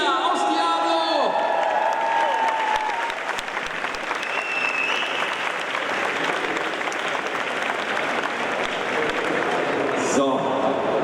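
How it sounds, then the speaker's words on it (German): At a cosplay contest, a crowd applauds and whoops for a performer dressed as a Diablo character, loud dense clapping with shouts and cheers mixed in, while voices and a few louder yells rise above it. "Großen Applaus für Ann-Kathrin Kühne als Cynia aus Diablo."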